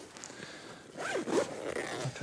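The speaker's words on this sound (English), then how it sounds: "Zip up that end, please, Carl." A zip being pulled shut along one end of a carp weigh sling during winter carp fishing, a short rasping zipper sound rising and falling in two quick sweeps, close and fairly quiet.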